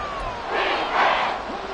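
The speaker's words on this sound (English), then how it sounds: "this crowd doing their best to make a lot of racket" Stadium crowd at an American football game, Texans versus Titans, roaring in a loud sustained wash of noise that swells twice, with no clear speech over it.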